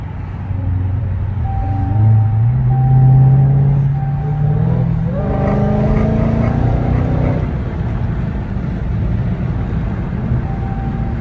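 A Dodge Hellcat with a JLT intake cruises on wet pavement, its engine droning steadily with a rising supercharger whine and tonal harmonics that climb mid-clip, close and continuous.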